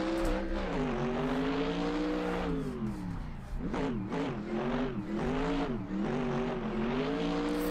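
A Chevrolet C5 Corvette drift car in Assetto Corsa revs hard, its engine note climbing and dropping through repeated throttle surges, loud and close with no talk over it.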